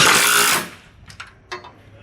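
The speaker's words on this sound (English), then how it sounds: "Now I'm going to tighten up this lower bolt" Power tool tightening a bolt on an extended 6.5 ft school bus stop arm with an electric actuator: a loud broadband whir for about half a second, then two short fainter bursts.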